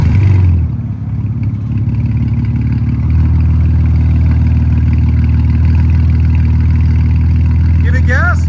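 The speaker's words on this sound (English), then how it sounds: "Now we're gonna try the NTR race mufflers." A Ford Raptor engine runs through NTR race mufflers, a loud, close, deep idle with a rumbling pulse that settles into a steady drone; voices speak over it.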